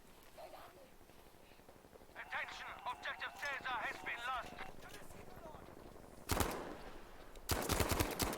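Bursts of gunfire from shots fired downrange in a competitive flag-capture video game match, two sharp clusters of rapid shots rising loud in the last seconds under excited caster commentary.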